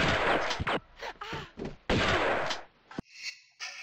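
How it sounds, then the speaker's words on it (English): Shotgun blasts in Tomb Raider II, several loud separate bangs with pauses between them, followed by short higher-pitched game effects near the end. "Use the shotgun again, because why not?"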